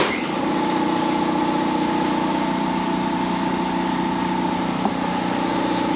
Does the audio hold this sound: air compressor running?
yes